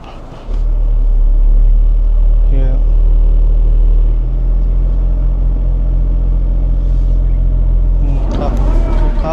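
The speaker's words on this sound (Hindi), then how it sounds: "ये गई थोड़ी सी ढलान में गाड़ी, अब मैं लगाता हूँ इसमें रिवर्स में।" Tata Punch CNG car reversing down a slight slope with heavy cabin vibration and slipping clutch: a deep, loud, steady engine rumble that starts abruptly, holds throughout, and is joined by brief knocks and clatter near the end.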